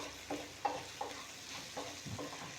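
Turmeric and red chili powder are stirred and sautéed in hot oil for a spiced flatbread breakfast, with soft scraping strokes of a spoon and a faint, low sizzle coming through every few moments.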